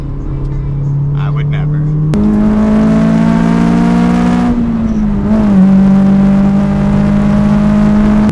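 A Honda S2000 with Mugen exhaust hums loudly and steadily from inside the car on a mountain road, jumping up in pitch into VTEC as it accelerates, then easing through a shift and climbing again.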